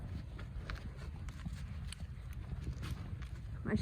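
Horse hooves clip-clop on the ground, a fairly close, uneven series of soft thuds against faint background noise, with no voices.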